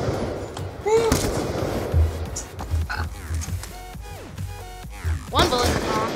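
Sniper rifle shots from an XPR in a Nuketown match of a first-person shooter, several sharp cracks spread across the clip amid game effects, with voices talking throughout.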